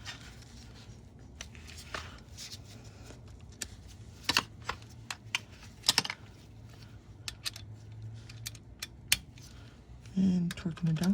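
A torque wrench set to about 45 newton-meters tightens a bolt during drivetrain service on a second-generation Honda Ridgeline, giving sharp, irregular ratcheting clicks close by over a low steady hum, with a denser burst of noise near the end.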